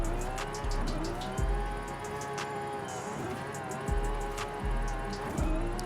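Toyota GR Supra drift car in Forza Horizon 5 with a high-revving engine that surges and drops repeatedly, tires hissing and squealing as it slides through corners.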